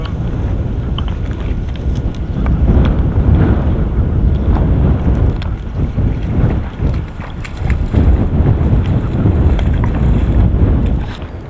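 Strong Arctic wind gusts steadily over a boat in August cold, a loud continuous roar of buffeting with surging swells, heard alone with no talk.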